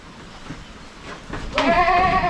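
A goat on a farm lets out a loud, close, wavering bleat near the end, preceded by quieter rustling farm ambience.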